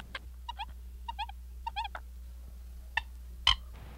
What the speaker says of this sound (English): This bird is called a coot.